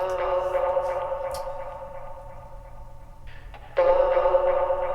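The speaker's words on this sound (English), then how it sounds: "And then the last thing I did was I put some reverb on it." A sung vocal sample drenched in Logic's Space Designer reverb, its sustained harmonic tone blooming into a big space, thinning briefly and then swelling louder again near the end.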